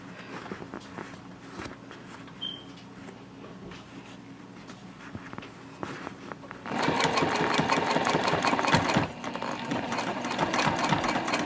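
A sewing machine stitches back and forth over a tote bag's closure strap, a steady mechanical whir that grows louder and busier partway through, running on its own without talk.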